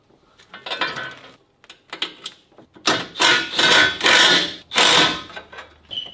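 Bolts and a lock nut are tightened on a Mazda 3 with hand tools, giving a run of close metallic clicks and ratcheting bursts, sparse at first and then loud and dense, with no talk.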